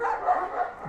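A Malaklı dog barks in a short burst of rough, continuous vocalizing at moderate volume, close by, with no other sounds around it.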